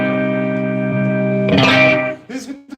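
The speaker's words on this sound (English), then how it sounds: "it adds a gain stage, the EHX Eddie pedal" Electric guitar run through an EHX Eddie gain pedal, played live at a bar: sustained distorted chord ringing with reverb, a louder strummed burst, then shorter choppy notes before it cuts off.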